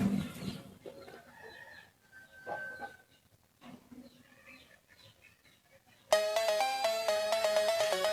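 A mobile phone ringtone bursts in loud and melodic after several seconds of quiet, sparse background noise, playing a bright repeating tune.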